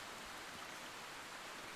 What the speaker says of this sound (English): this rain is really upsetting me